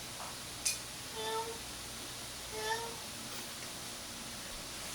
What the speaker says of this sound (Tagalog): Pusa. Pusa, Chip.